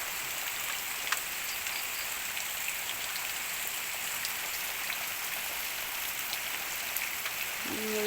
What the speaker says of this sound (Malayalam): രാവിലെയൊക്കെ നല്ല മഴയാണ്.